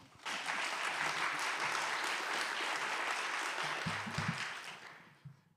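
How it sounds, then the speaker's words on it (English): An audience applauds at a university conference in Kraków, sustained dense clapping filling the room for several seconds, with faint voices underneath before it fades out. "Applause, please."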